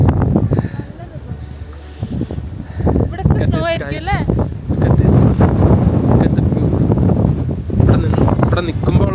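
Strong cold wind buffeting the microphone on an outdoor lookout at Warburton near Melbourne, loud continuous gusty roar throughout while a person talks over it.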